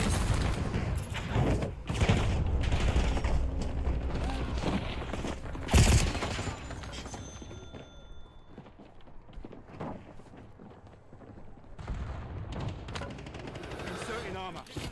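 Rapid gunfire bursts in the Warzone battle royale shooter, loud and dense at first, then thinning into scattered shots, with in-game radio voices talking throughout.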